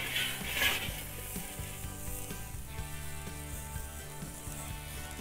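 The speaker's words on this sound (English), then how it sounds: "we're gonna sear this side for about a minute or so" Burger patties sear in a hot pan with a steady, close sizzle crackling on top of a low, pulsing tonal hum.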